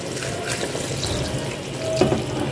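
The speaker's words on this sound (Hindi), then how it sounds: "अब थोड़ा सा पानी इसमें ऐड करेंगे" Water pours into a cooking pot of turnips that have been frying in it, giving a steady splashing, sizzling wash that stays close and fairly loud, with no voices.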